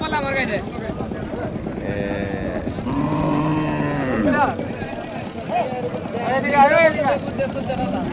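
A cow lows in drawn-out moos at a busy cattle market, heard close and clearly amid steady crowd chatter and people talking nearby.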